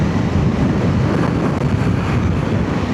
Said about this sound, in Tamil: இங்கிட்டு காற்று தான் அடிக்குது.